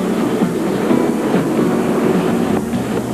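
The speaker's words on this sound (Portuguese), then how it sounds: "De Churchill, o trem atravessa pontes altas e bem ásperos." 1950s steam train running on the English Riviera line, with a steady rumbling rail roar and faint rhythmic clatter, continuous and fairly loud.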